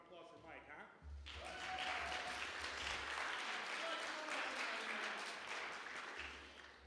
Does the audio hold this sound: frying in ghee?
no